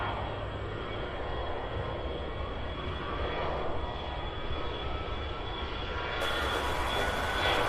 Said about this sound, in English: We have that CRJ-9 taking off now